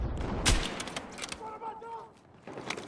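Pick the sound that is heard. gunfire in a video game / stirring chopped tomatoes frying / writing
gunfire in a video game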